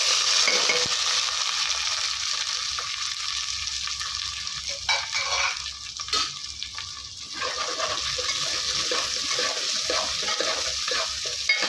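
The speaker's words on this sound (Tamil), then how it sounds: "ஒரே ஒரு பெரிய வெங்காயத்தை பொடியாக நக்கி வச்சுருக்கேன் அதோடு கொஞ்சம் முழுசாக சாம்பார் வெங்காயம் வச்சுருக்கேன் கருவேப்பிலையும் சேர்த்துக்கிறேன்" Chopped big onion, whole sambar onions and curry leaves frying with mustard seeds in a pan for a village-style karamani kuzhambu, a steady loud sizzle with scraping stirs through the middle, no voices.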